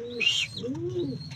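A pigeon hen, mother of a young recessive opal-coloured bird, gives a soft close coo with a low rolling murmur and a brief higher chirp over quiet background.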